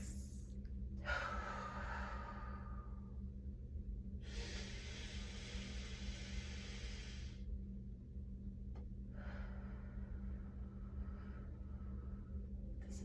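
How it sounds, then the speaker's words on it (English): Slow, deep breaths close to the microphone, several long airy inhales and exhales separated by pauses over a faint steady background hum. "Let's take some deep breaths."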